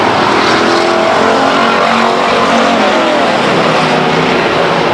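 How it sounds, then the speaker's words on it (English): Race cars circle the Stockton 99 Speedway track, a loud, steady roar of engines passing close with no let-up. "Here comes your leader, Anderson Jr. in the 5 car to complete lap 6"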